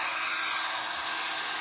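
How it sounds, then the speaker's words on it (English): Hair dryer running steadily at close range, a constant loud airy whoosh with no pauses or talk. "back to the hairdryer."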